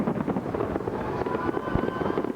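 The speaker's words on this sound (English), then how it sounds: "Magnificent fireworks set on our spectacular harbour backdrop." Fireworks burst over Sydney Harbour on New Year's Eve welcoming 2002, a dense, continuous crackle of many overlapping pops at moderate volume, with no voices.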